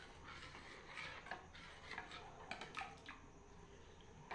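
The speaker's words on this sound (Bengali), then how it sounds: "সুজিটা দিয়েও একটু নাড়াচাড়া দিয়ে নিচ্ছি।" Semolina being stirred into a batter for malpua, faint repeated scraping and rubbing of a spoon against a bowl in an uneven rhythm with soft clinks.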